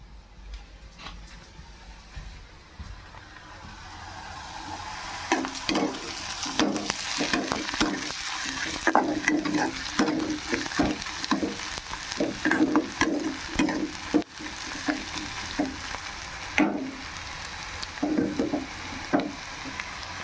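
Fish frying in a pan for a home-cooked fish curry, a steady sizzle with repeated stirring and scraping strokes that grow busier after the first few seconds, close and fairly loud with no talking.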